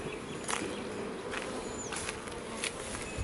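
Honey bees buzz around wooden hive boxes being shifted to another farm, a faint continuous hum with individual bees zipping close past now and then.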